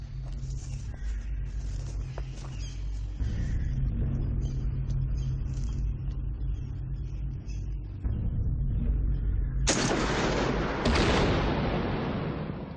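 Heavy anti-materiel rifle fire meant for shooting helicopters and tanks: a low, continuous rumble, then two loud, sharp blasts close together near the end.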